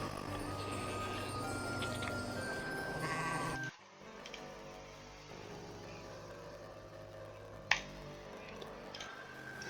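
Goats bleat in a video game's goat house, a few brief harmonic calls over busy game audio and background music, with an abrupt drop in the mix partway through and a single sharp click near the end.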